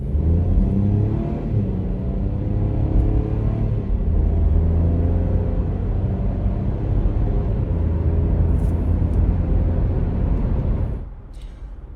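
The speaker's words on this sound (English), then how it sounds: "I'm going to hit the accelerator so you can hear what this car sounds like under full throttle" A three-cylinder engine in a 2025 Chevy Trax accelerates at full throttle, a loud steady droning rumble that holds for about eleven seconds before suddenly dropping away.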